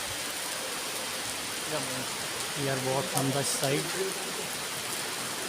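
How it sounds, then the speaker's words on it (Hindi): Steady rain pours outside a hilltop cave temple in Kuala Lumpur, Malaysia, a dense continuous hiss filling the whole stretch while someone speaks over it. "और बारिश हो रही है ऊपर से, आप देख सकते हैं"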